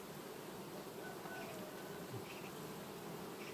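Honey bees buzzing steadily at an open hive in August, a dense continuous drone of many insects close by with no talking.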